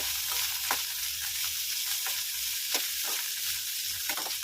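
Ridge gourd sizzles steadily in hot oil, with a few sharp scrapes and clinks of a spatula stirring the pieces at uneven intervals, close and moderately loud, with no voices.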